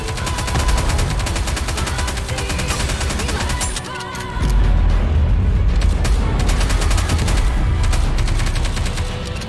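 Loud, continuous rapid gunfire in the video game Nikke, bursts of automatic fire with booming impacts running without a break and swelling heavier partway through.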